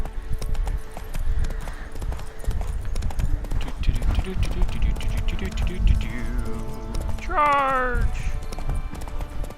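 Horse galloping in The Witcher 3, a steady rapid clip-clop of hooves close up under game music, with a short shout and a whinny-like rising call near the end.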